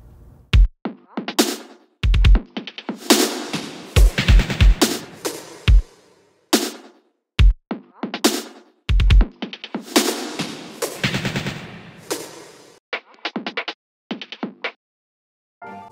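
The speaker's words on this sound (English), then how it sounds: "he frequently will take a super busy, almost considered like a drum and bass drum loop" A sliced, filtered jungle drum and bass drum loop in a remix: busy, choppy breakbeat hits with sharp snares and kicks, cut into short bursts separated by gaps of silence.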